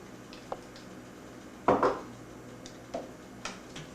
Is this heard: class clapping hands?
no